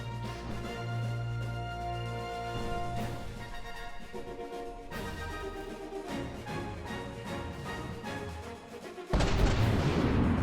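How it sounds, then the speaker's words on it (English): An ICBM missile explodes in the naval combat game From the Depths, a sudden loud blast near the end that comes in over layered mechanical and musical game sounds. "Oh, his ICBM went off."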